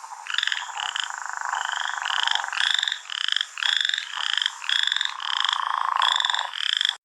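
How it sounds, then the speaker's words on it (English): Leopard frogs croak from a swampy spot at night, a dense chorus of rhythmic, rattling calls repeating steadily with short gaps. "those are croaking leopard frogs"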